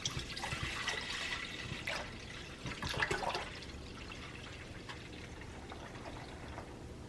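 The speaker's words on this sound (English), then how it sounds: "I'm gonna fill it the rest of the way up with water." Water from a jug is poured into an autumn simmer pot to fill it up, a faint steady trickling and splashing that swells briefly midway before settling.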